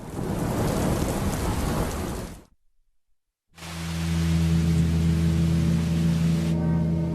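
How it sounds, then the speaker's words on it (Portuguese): Torrential rain with thunder in Rio de Janeiro, Brazil: dense, loud rainfall roars steadily, breaks off into near silence for about a second, then returns with a deep sustained rumble under the downpour. "Uma chuva torrencial pega de surpresa os moradores do Rio de Janeiro, no Brasil."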